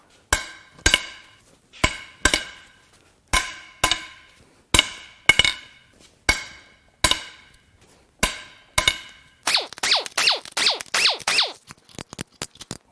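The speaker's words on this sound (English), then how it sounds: "Let's crack these head bolts loose." Cylinder head bolts being cracked loose on a Subaru EJ20X turbo engine during teardown, a series of sharp metallic knocks in even rhythm followed by a rapid flurry of ratcheting clicks, close and loud.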